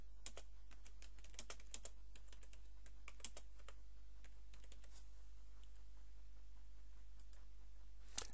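Typing on a computer keyboard to enter a title, many quick key clicks in uneven bursts, fairly close and clear over a low steady hum, thinning out toward the end.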